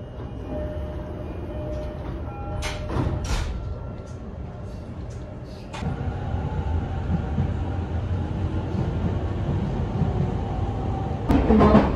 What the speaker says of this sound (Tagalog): dito na lang ako sasakay sa local matagal siya pero laban na